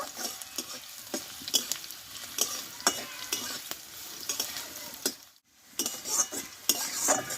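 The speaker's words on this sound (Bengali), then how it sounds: "আদা কাঁচা লঙ্কাটা একটু আমি ভেজে নেব" Chopped ginger and green chillies frying in a pan with a spatula: a steady sizzle under rhythmic, close scraping and tapping strokes, with a brief pause before the stirring resumes.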